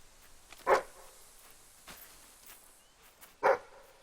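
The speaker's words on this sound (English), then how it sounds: "This dog is so stupid." A dog in the Fable III video game barks twice, a few seconds apart, with short loud yips standing out over a quiet game background.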